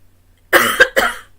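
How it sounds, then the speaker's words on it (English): Three quick, loud coughs close up, the first longer and the next two short and sharp, with near silence before them. "Oh, I'm going to cough."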